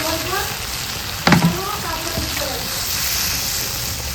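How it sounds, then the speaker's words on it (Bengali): Water is poured into spice masala frying for a jackfruit curry, a short splash and burst of sputtering over a constant loud sizzle, heard close up. "এবারে ওতে দিয়ে দিব জল।"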